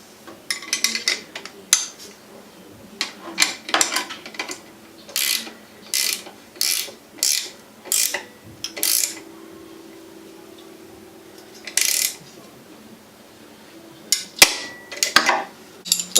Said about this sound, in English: then we'll tighten down the extender bolts